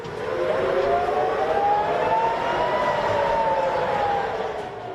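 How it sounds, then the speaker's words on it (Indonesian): A loud air defense siren in Tel Aviv wails continuously, its pitch swelling and sagging slowly, easing off slightly near the end. "sirine sistem pertahanan udara Israel kembali menggema di Tel Aviv."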